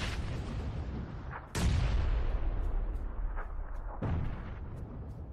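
Gunfire in the battle royale game PUBG: two loud, sharp shots a few seconds apart, each with a long rolling echo trailing off, the second slightly quieter than the first, with no talk over them.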